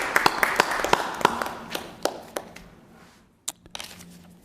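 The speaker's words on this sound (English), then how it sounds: "let's give them a round of applause." Scattered clapping from a small audience at a board meeting, a few sharp hand claps rather than a full ovation, fairly distant and thin, fading out after a few seconds.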